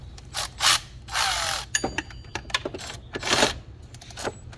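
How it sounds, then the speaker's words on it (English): A torque wrench tightens the belt tensioner and idler pulley bolts on a 2005 Ford Ranger V6, with quick bursts of close ratcheting clicks and metallic clinks in a quiet workshop. "both the belt tensioner and the idler pulley bolt is gonna be torqued down to 35 foot-pounds"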